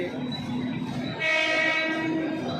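A crowded train rumbles steadily nearby in Vasai, and partway through a loud horn sounds over the continuous rolling noise.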